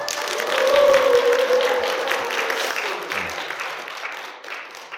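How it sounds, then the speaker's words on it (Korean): Audience applause at an open Bible lecture session in a church setting, a dense wash of clapping that swells early and then slowly thins out over several seconds. "두 번째 시간 시작할 때 박수 소리가 훨씬 커요"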